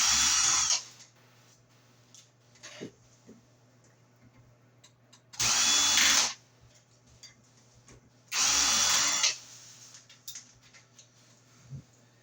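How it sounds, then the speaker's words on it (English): A screw gun drives long screws in three loud, separate whirring bursts of about a second each, separated by quiet pauses with small handling clicks. "See how much easier that is when you get a screw gun?"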